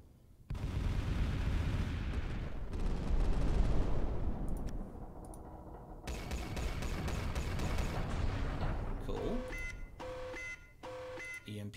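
Plasma guns fire at a battleship's bare hull in a space fleet combat game: a dense, continuous barrage of crackling, booming shots and mechanical noise, loud and sustained, ending in a few beeps and tonal blips.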